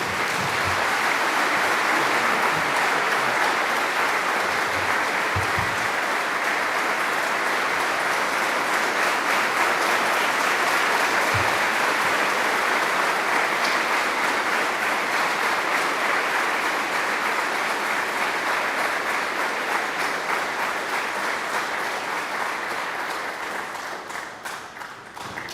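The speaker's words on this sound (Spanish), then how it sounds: "Lo recibimos con fuerte aplauso." A large audience at an evening gathering gives sustained, loud applause that holds steady for over twenty seconds before starting to fade at the end, with no voices over it.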